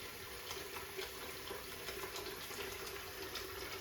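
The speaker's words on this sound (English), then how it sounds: "Sink is filling. Let that fill a few inches." Bathroom sink filling from the tap after its slow drain is stopped and sealed, a steady, even stream of running water splashing into the basin without pause, fairly quiet and close.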